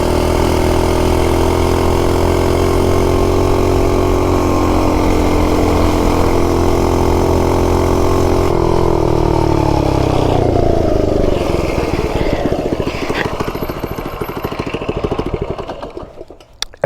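A cheap Amazon mini bike's small engine roars at full throttle, holding a steady high buzzing drone for several seconds before the pitch sags and the sound rumbles and fades as the bike moves off.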